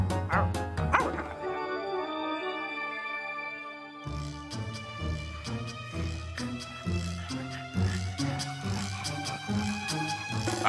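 Three small cartoon dogs bark and yip in quick bursts over a bright, bouncy music backing, the yaps close and lively against the tune.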